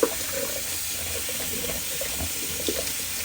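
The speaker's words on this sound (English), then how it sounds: "I'm going to give that a quick rinse" A Semogue 830 boar shaving brush is rinsed under a running tap, a continuous close rush of water splashing into a sink with no talking.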